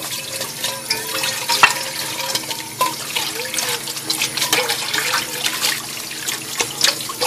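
Water runs steadily from a tap with intermittent splashing and clinking as something is scrubbed and rinsed under the stream.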